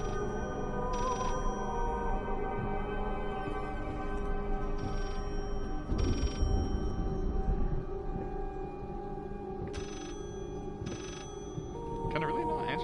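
A telephone in a Halloween horror video game rings in repeated short electronic bursts over an eerie droning game soundscape, with a person talking over it.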